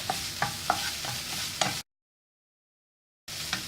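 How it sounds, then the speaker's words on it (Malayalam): Capsicum sautéing in a pan, with soft sizzling and several sharp spatula taps and scrapes, cut by a silent gap before a brief return of the frying sound. "ക്യാപ്സിക്കം ഒന്ന് വഴലണം."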